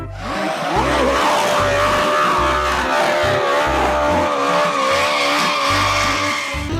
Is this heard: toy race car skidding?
yes